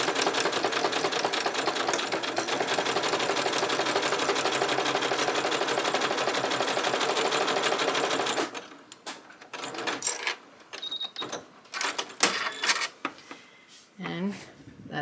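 A sewing machine stitches quilt fabric pieces together in a loud, rapid, continuous whir for about eight seconds, then stops. Quiet fabric handling and a speaking voice follow.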